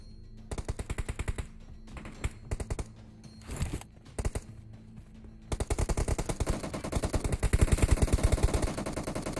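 Rapid automatic gunfire from a 2v2 team deathmatch video game, loud and close, firing in short stuttering bursts before breaking into long sustained volleys.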